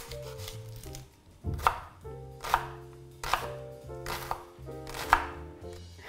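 A knife roughly chops red onion on a board for a vegan ital curry, five crisp, evenly spaced thuds over soft background music.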